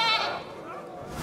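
A goat gives a single short bleat in a French comedy film, loud and close, with a voice present.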